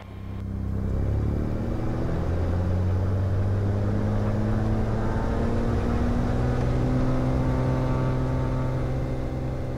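Aircraft engines run up to takeoff power on runway 24, a steady, loud, close-up roar that swells within the first second and then holds as the plane rolls down the runway.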